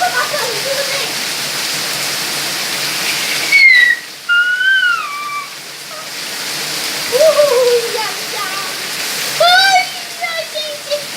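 Rain shower pouring down outdoors during a cold bath in the rain, a steady broadband hiss throughout, with excited voices and squeals breaking in over it.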